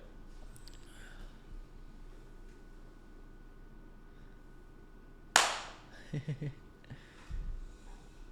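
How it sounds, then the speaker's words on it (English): A single sharp hand clap rings out in a quiet podcast studio, followed by a few softer scattered claps and a brief murmur afterward. "We got a clap, right?"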